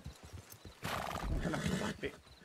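A horse whinnies in Red Dead Redemption 2, a loud, drawn-out neigh rising out of quieter hoof and ambient sounds, with a short snort near the end.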